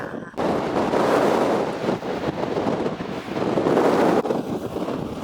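Strong wind gusts over a volcanic crater lake in Iceland, a loud continuous roar buffeting the microphone and swelling and easing in waves.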